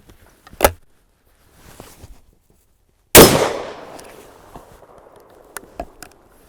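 A Brno ZBK 110 break-action rifle fires one loud, sharp shot outdoors, a sudden crack whose echo rolls away over a few seconds. Softer clicks and handling knocks from the single-shot gun come before and after it.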